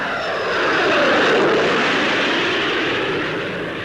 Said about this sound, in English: installed under an Ashton, is the Rolls-Royce Conway bypass engine, a major advance in gas turbine technology